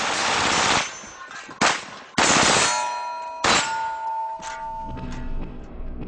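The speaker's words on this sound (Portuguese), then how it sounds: "Veja só os tiros disparados em alvos de metal." Several loud gunshots in quick succession, each followed by a bright metallic ring as the rounds strike steel targets, the ringing lingering between shots.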